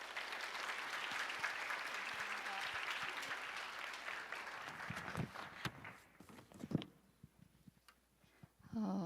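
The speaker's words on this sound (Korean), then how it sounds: "다 함께 큰 박수로 맞이하시겠습니다" A church congregation applauds at a worship service, a full steady round of clapping that thins after about five seconds into scattered claps and a few footsteps-like taps before dying away.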